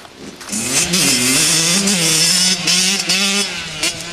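A Kawasaki KX 85 dirt bike engine revs hard and close as it is ridden, its pitch rising and falling in steady surges through the whole stretch with no talk over it.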